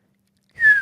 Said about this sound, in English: You whistle with your tongue.